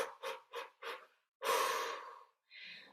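Breathing exercise: a few short quick inhales in a row, then one long forceful exhale, and a final shorter breath, close and clear with no talk.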